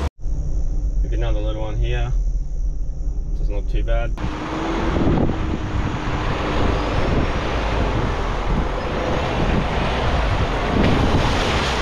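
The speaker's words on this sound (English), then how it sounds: "It's pretty windy out there" Strong wind and crashing surf roar steadily on a beach at the Bulwer Wrecks on Moreton Island, bursting in loudly after a few seconds of someone speaking inside a vehicle.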